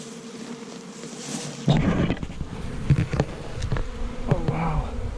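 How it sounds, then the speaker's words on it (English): A swarm of honeybees buzzing around a backyard hive, a dense droning hum with individual bees passing close by, growing louder and busier after a quieter opening. "So a swarm means that your hive is really healthy"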